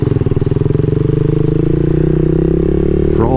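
A CSC SG250 motorcycle with a MotoCult Stage 4 build idles close up, loud and even, with a steady rapid thumping pulse and a brief rising rev near the end.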